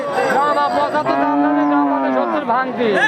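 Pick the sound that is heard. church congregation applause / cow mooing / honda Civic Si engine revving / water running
cow mooing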